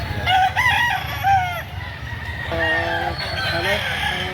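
A six-month-old stag, a young rooster, crows at a busy Saturday chicken market in Lipa, Batangas, its warbling calls repeating close by over a steady crowd murmur.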